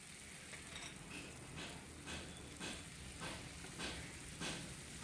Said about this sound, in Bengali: সব সবজিগুলোকে ভালোভাবে এবার ভাজা ভাজা করে নিতে হবে